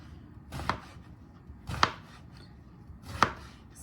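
A knife dices soft eggplant on a cutting board: three separate, evenly spaced chops, each a short dull thud with a crisp edge, close by and otherwise quiet.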